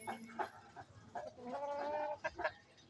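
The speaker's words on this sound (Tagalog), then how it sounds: "Yan yung inahin" A mother hen clucks in short, soft bursts at close range in a backyard poultry pen, the calls irregular and fairly quiet, with no talking.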